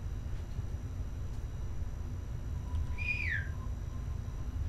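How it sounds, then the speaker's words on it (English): A single descending whistle in the Backrooms video game, brief and fairly faint, sounding over a steady low hum with no talk. "I hate that whistle. It's like not directional."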